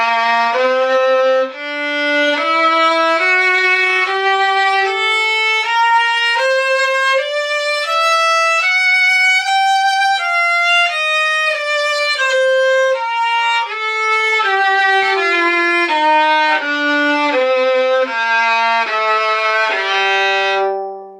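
A bowed string instrument plays fast grand détaché strokes using the whole bow, a quick run of clear, evenly separated notes climbing and descending in steady rhythm, close and solo without speech.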